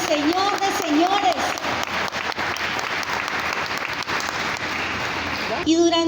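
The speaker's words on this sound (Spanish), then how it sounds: "le regalamos un aplauso al Rey de Reyes y Señor de Señores" A church congregation claps together in sustained, dense applause, with a voice speaking over it at the start and again as the clapping ends.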